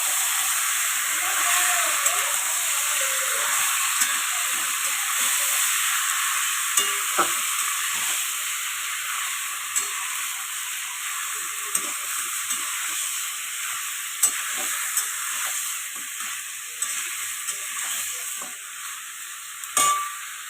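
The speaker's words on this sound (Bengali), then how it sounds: "অনেকক্ষণ ধরেই এটা কষাতে হবে।" Food stir-frying in a pan, with a steady sizzling hiss running throughout and occasional scrapes and clinks of stirring, fairly close with no talk.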